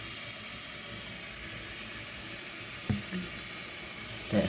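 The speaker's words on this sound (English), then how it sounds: "So the water is filling up." Kohler toilet tank refilling with water after a gasket replacement, a steady broadband rush of filling water running throughout with a couple of brief louder knocks near the end.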